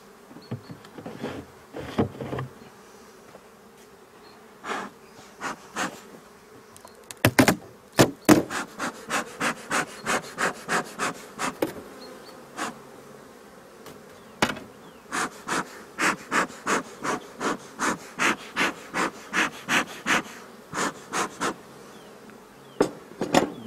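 Honeybee colony humming in an open wooden hive during a spring inspection, a steady low buzz close by under repeated sharp wooden clicks and scrapes of hive tools and frames, irregular at first and then fairly regular.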